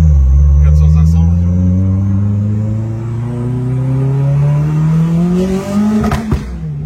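A Renault 5 Turbo rally car's engine climbs steadily in a loud, close, rising roar through the gears, ending in a burst of sharp pops and crackles from the exhaust.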